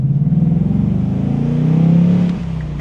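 A 2025 Ford Mustang GT's V8 engine revving up close and loud, a throbbing low burble that swells to a sustained peak then drops back to a rumbling idle.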